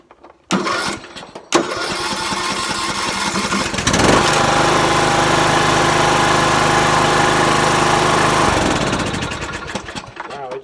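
A riding lawn mower's engine cranks and catches after a couple of attempts, then runs loud and steady close by, settling into a throbbing idle before cutting off; a voice is heard briefly.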